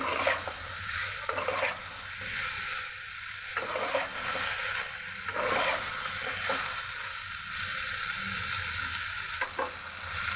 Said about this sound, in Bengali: বেগুনটা আমি নেড়ে দিচ্ছি।